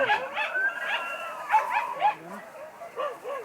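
Dogs on a wild boar hunt in Padang, heard as a rapid run of yips and high whining barks at a moderate distance, with voices mixed in.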